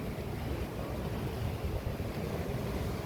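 Waves of a very shallow small sea, only about four feet deep at most, wash in a constant rushing murmur mixed with wind buffeting the microphone, with no talking.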